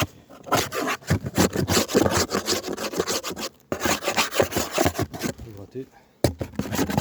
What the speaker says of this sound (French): Gratter.